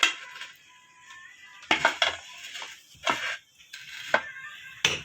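Potato rice being served onto a dish, with several distinct clinks and scrapes of a utensil against the plate at irregular intervals, close and moderately loud between quiet gaps.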